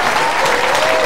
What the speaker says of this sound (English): will you please welcome with a big round of applause, this is Nick Daniels.